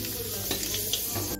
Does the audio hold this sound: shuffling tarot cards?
no